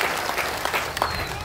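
Crowd clapping at a political rally in Bihar, a dense continuous wash of many hands applauding from start to end, loud and close, with faint voices mixed in.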